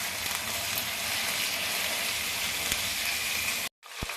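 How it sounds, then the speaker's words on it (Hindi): Chicken pieces sizzle and fry steadily in a hot pan for Balochi chicken karahi, a dense, continuous crackle that holds evenly before cutting out abruptly near the end. "तो 5 मिनट तक हम इसको अच्छे से फ्राई करेंगे।"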